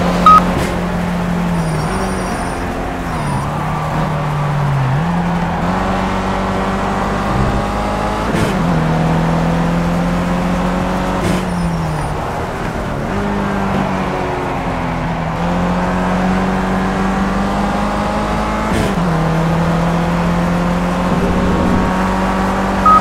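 Racing engine of an Audi A1 Quattro in the Project CARS game at Zolder, loud and continuous, repeatedly revving up through gears with brief drops between shifts and occasional sharp clicks.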